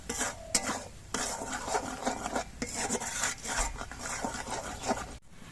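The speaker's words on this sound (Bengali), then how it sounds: "এবার মশলাগুলোকে কিছুক্ষণ কষিয়ে নিতে হবে" Spices for doi potol being stir-fried in a pan, a spoon scraping and stirring in repeated rasping strokes over a soft background sizzle, close and steady with no talk.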